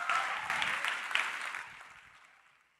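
Applause from an audience at a school fine arts evening, a thick wash of clapping that starts full and gradually tapers off into quiet.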